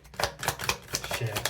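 Tarot cards shuffled with a thumb thimble make quick papery riffling taps in an irregular rhythm, close and moderately loud, with some faint background noise.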